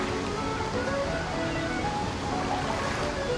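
A steady, full-bodied rush of falling water from a waterfall in BioShock Infinite, constant and fairly loud throughout with no other sounds standing out.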